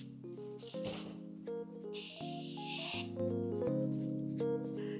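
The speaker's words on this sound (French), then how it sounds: "Vous mélangez bien et ensuite on vaporise." Two quick bursts of spray hiss from a bottle of homemade cornstarch-and-water starch, heard close up over a loud background of music.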